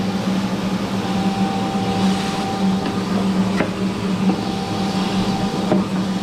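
Steady, loud rushing drone with a low hum from the air blower of a homemade blacksmith's forge, running continuously with a few faint clicks and knocks.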